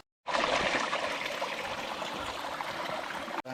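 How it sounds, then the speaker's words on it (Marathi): Clear spring water flows steadily from a source used for village drinking water, a close, continuous rushing trickle that starts abruptly and holds at an even level, with a brief dip just before the end. "आम्ही आता पाणी पिताला शुद्ध आणि झऱ्याचं पाणी येतं या वरनं असा"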